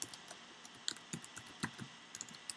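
Someone types on a computer keyboard in a quiet room, producing soft, irregular clicks and taps in short uneven runs.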